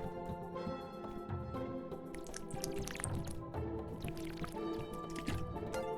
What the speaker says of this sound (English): Drinking some water.